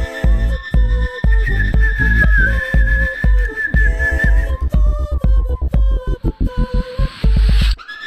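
The whistling character from the Incredibox music game whistles a clear, loud melody over a throbbing beatbox rhythm, with sustained tones and short repeated notes.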